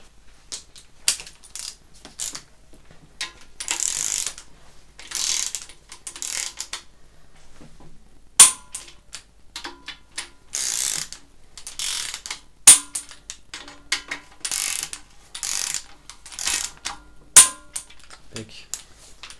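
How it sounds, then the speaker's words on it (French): Ratchet wrench tightening the 13 mm oil pump bolts to 20 Nm on a BMW M50B30 engine, with bursts of rapid metallic clicking and short pauses, close to the mic and alone. "Donc là on peut serrer à 20 Nm."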